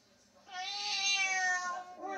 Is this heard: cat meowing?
yes